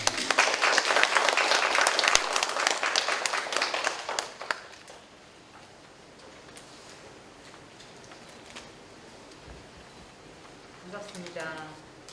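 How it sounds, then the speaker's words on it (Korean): Audience applause fills a hall at a 40th-anniversary foundation ceremony, dense and loud for about four seconds before fading into quiet room tone, with a voice briefly starting near the end. "큰 박수로 모시겠습니다"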